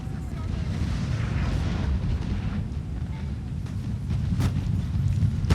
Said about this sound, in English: My artillery firing as well.